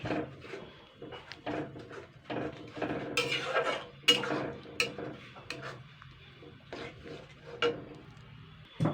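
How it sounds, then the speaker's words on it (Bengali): Winter greens with sugar added being stirred in a metal cooking pot, giving scattered scraping clinks and clatters of a spoon against the pot at an irregular pace, fairly close and moderately quiet. "আমি এটাকে একটুখানি নাড়াচাড়া করে নেব"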